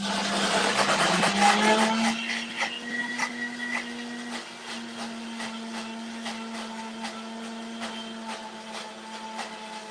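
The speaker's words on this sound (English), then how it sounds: "to blend the crema. Again, probably only 15 seconds because the blender is very powerful." An Optimum G2.6 high-powered blender blends avocado crema, a steady loud motor whine with a burst of churning at the start that settles into an even hum for the rest of the short run.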